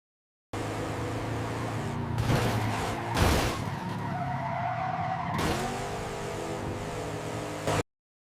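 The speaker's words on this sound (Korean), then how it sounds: "플레이하면 자동차가 충돌하는 소리가 들리죠?" Tires screech and skid loudly with roaring engine noise, punctuated by a heavy impact thud, then a long sustained squeal before cutting off abruptly.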